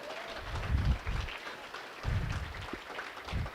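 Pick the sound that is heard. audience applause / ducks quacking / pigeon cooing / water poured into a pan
audience applause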